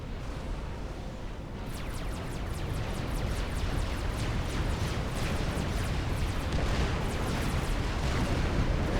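A TAC missile battery is destroyed in the Supreme Commander real-time strategy game, amid dense, continuous battle rumble with rapid repeated explosive crackles and booms that swell and hold loud.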